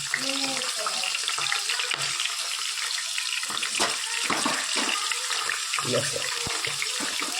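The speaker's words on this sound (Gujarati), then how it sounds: "આપણું તેલ થોડું થઈ જવા આવ્યું છે. એમાં ડુંગળી નાખીએ" Onions dropped into hot oil in a home kitchen pan, giving a steady broadband sizzle and crackle throughout, with brief clinks and stirring noises breaking through.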